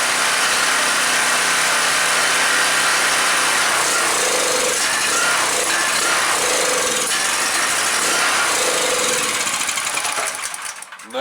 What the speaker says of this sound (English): So anyway, it does run. Actually sounds rather good. It's not surging or anything on a half choke